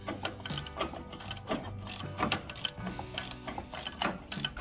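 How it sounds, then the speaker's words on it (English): A ratchet ring spanner clicks rapidly in repeated bursts, tightening the top bolt on a Hitachi-style EAS air suspension compressor of a Land Rover Discovery 3, close and clear with no talking. "final bolt up the top is the ratchet ring spanners"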